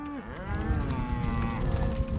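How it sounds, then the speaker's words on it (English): Cattle low loudly and close by during a cattle drive on a remote ranch in south central Montana, one drawn-out moo followed by others overlapping over a steady bed of herd noise. "Driving cattle at Dryhead Ranch in south central Montana"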